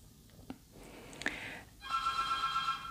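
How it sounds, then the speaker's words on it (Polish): A telephone rings in a quiet room, a short electronic ringtone trill near the end after a few soft knocks and clicks, faint and somewhat distant. "Przepraszam Was za ten dzwonek telefonu."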